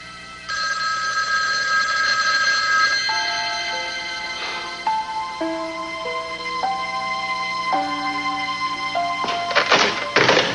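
A telephone rings on and on unanswered as a run of steady electronic tones that shift in pitch, ending in a few dull thumps at the close.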